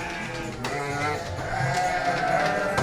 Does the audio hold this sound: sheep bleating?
yes